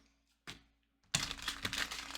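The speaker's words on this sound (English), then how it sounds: "Okay, I'm gonna shuffle your deck on camera." A tarot deck is shuffled close up: after a short quiet pause and one brief rustle, a dense burst of papery card riffling and flicking follows.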